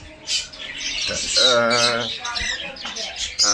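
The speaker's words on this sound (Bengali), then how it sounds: "এরপরে দেখতে পাচ্ছি রানিং মাস্টার একজোড়া লোটিনো পাল কোকাটেল, মেল ফিমেল দুইটাই পাল, বর্তমান ব্রিডিং মোডে আছে।" Lutino pied cockatiels, a breeding pair kept in a cage with a nest box, chirp and squawk in loud, overlapping bursts close by with no talking.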